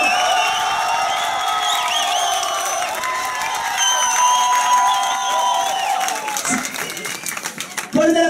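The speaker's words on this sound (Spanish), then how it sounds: "Fuerte el aplauso entonces para la señorita Francisca del Solar." A studio audience at a drag diva competition show applauds and cheers, with sustained clapping, whoops and shouts. A host talks over the crowd throughout, and the noise swells and breaks up near the end.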